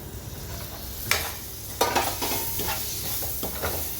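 Potato masala with coriander leaves and grated coconut being stirred in a hot pan: a soft sizzle runs underneath while a spoon scrapes and clinks in several separate strokes, close up, with no voices.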